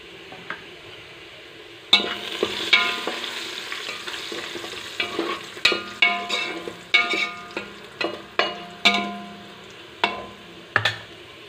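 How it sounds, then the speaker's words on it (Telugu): Onions fry in a pan while being stirred, a low steady sizzle punctuated by a regular series of sharp scraping clinks from the spoon against the pan, close and clear with no talk. "ఉల్లిగడ్డలు బాగా ఉడికియాలండి. కొంచెం రెడ్ కలర్లో వచ్చిందాకా ఉడికించుకోవాలి."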